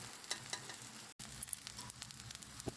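Fish roe patties sizzle in a frying pan with a steady, close hiss, briefly interrupted once, with a few light clatters from turning them over; no one speaks.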